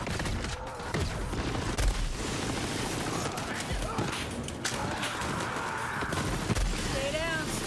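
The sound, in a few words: laser SMG firing in video game Borderlands 3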